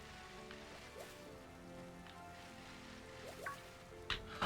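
In the video game Pokemon Sword, quiet rain patters steadily, with a few brief louder clicks and taps from the game near the end.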